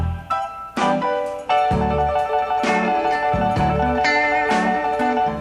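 Recording of a song plays with piano and layered instruments sounding full and steady, sustained chords shifting every second or so, with no talking over it.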